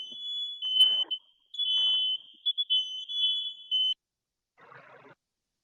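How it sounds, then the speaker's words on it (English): A smoke alarm goes off indoors with a loud, sustained high-pitched electronic tone lasting about three seconds, preceded by short bursts of clatter and followed by silence and a brief rustle. "That's my alarm going off."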